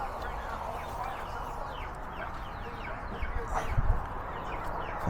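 Backyard laying hens cluck steadily inside a coop, a busy layered chorus of close and distant birds with a few louder calls near the end.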